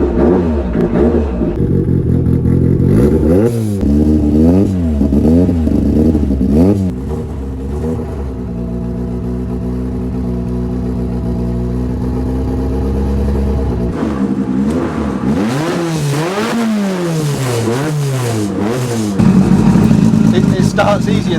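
A Ford Sierra RS500 Cosworth race car engine fires up nearby and revs repeatedly, loud throaty swells rising and falling with a steady idle between blips.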